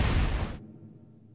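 A car explosion in Law Abiding Citizen: a heavy, loud blast roars for about half a second, then drops away into a low fading rumble.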